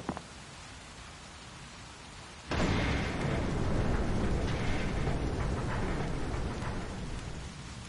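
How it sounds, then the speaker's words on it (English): Thunder and heavy rain in the video game Resident Evil 6: a quiet patter gives way to a sudden loud crack and a sustained roar of downpour and rumbling thunder, with no talk. "I know it was thundering"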